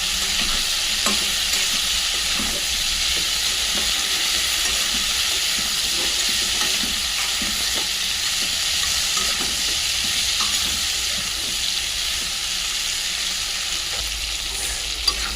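Cauliflower florets fry in hot oil until browned, a loud continuous sizzle close by with frequent spatula scrapes and taps as they are stirred, and no voices.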